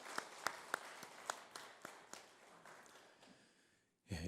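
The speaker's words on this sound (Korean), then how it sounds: "박수 한번 하시겠습니다" A small early-morning congregation at a Holy Week special dawn prayer service claps, sparse individual claps ringing out at first and then thinning, quiet and somewhat distant, ending on a burst of noise.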